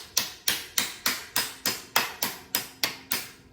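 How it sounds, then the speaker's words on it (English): A hammer taps an original Schwinn seat onto a 1974 Schwinn Varsity bike. Ten evenly spaced, sharp metallic blows sound close by, each fading quickly, with no talking. "Might need the hammer."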